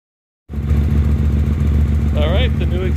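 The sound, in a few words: 2016 Hyosung GT250R motorcycle with upgraded exhaust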